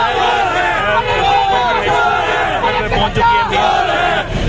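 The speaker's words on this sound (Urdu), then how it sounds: "کارکنان کی ایک بڑی تعداد جو ہے وہ موجود ہے اور نعرے بازی کی جا رہی ہے" Workers at a political rally against Imran Khan's government chant slogans together, a loud crowd of voices rising and falling in rhythmic shouted phrases close by.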